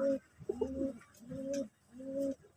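Pigeons cooing close by, several soft repeated coos in a steady rhythm with short pauses, alone and fairly quiet.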